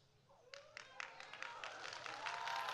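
Scattered clapping builds into fuller applause from a graduation audience at a spring college commencement, sharp claps starting sparse and thickening to a steady patter, fairly distant in a large hall.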